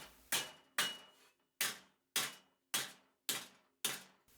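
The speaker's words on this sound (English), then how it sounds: "I used the same basic method, just bigger and with larger hammer swings." A hammer strikes a sheet metal cylinder for a cyclone dust collector in eight sharp, ringing blows at a steady rhythm, each decaying briefly before the next, close and alone.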